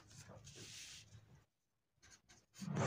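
A pen writing answers into an exam notebook, with scratchy strokes in short bursts broken by a brief pause, close and quiet, and a voice speaking near the end.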